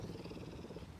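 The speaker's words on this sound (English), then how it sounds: "Can you hear her purring?" A low, steady purring rumble from a cougar, continuous and fairly quiet, with no voices over it.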